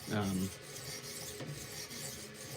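A knife blade rasps across a 200-grit sharpening stone in short, repeated gritty strokes, close and fairly loud, with a brief low voice-like sound at the start.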